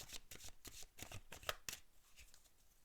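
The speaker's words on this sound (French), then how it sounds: "je vais vous tirer une carte des commandes à l'univers" Oracle cards being shuffled and drawn, a quick run of soft papery riffles and flicks over nearly three seconds, close and fairly quiet, with no voice over it.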